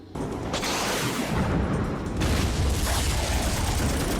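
Loud, continuous rumbling film explosions from Mega Piranha (2010), with heavy low-end booms, one swelling roar blending into the next without pause.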